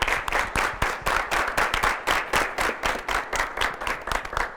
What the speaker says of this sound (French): On va tous se tenir debout et l'accueillir avec des applaudissements.